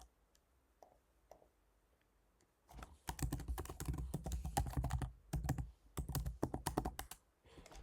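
Someone types a password on a computer keyboard, a quick run of close, crisp key clicks after a few seconds of near silence and a couple of isolated taps, with a brief pause partway through.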